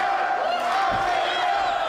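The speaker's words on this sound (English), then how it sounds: "Oh, the fans are cheering for Aztec" Wrestling fans fill the Velasco Theater with a sustained roar of crowd noise and cheering at a women's wrestling event, a dense steady wash of voices without a break.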